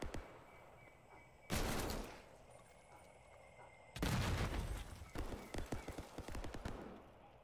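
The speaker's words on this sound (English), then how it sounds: "That's a grenade." A grenade blast in a Minecraft game bursts out loudly and close, followed by rapid crackling gunfire-like bangs and a second heavy explosion with a trailing rumble; talk is faintly present.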